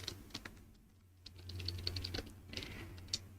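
Quick, light clicking of keys on a computer keyboard comes in short irregular bursts, close and fairly quiet, with no one talking.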